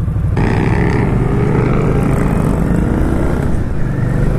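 An Indian Scout Sixty motorcycle engine runs loud and close while being ridden, a steady deep rumble with a strong low drone that climbs slightly as the bike pulls under torque, with no talking.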